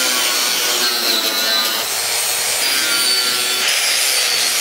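A saw cuts through long lengths of steel tube in a steady, harsh, continuous rasp, loud and close, with no voices.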